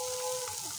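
Fried potato and cauliflower pieces tipped into a pan of sizzling spiced masala with turmeric, a steady soft hiss of frying over under a second, ending in a sharp clatter.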